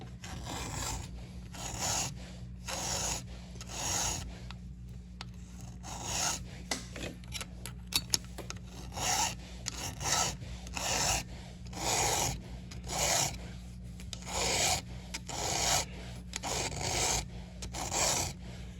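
Steady back-and-forth rasping of a file on a chain, stroke after stroke in an even rhythm, close and fairly quiet, with no talking.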